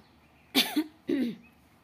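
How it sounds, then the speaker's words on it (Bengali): A person with a cold coughs twice, close and fairly loud, two short raspy bursts separated by a brief pause in a quiet room. "আমার একটু ঠান্ডাতে একটু কাশি কাশি আসে"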